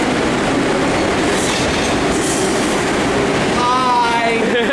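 A New York City train runs along the rails, giving a steady, loud rumble with rhythmic wheel clatter throughout and a brief metallic squeal or horn-like tone near the end.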